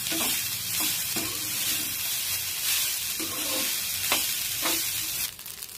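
Rice with tempering is stirred in a pan with steady scraping strokes over a soft continuous sizzle, close and moderately loud, with no talking.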